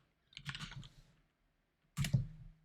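Typing on a computer keyboard while entering a PowerShell command, two short bursts of clustered key clicks separated by a pause, close and fairly quiet with no talking.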